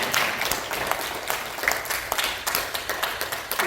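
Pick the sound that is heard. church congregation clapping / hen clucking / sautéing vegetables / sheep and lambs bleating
church congregation clapping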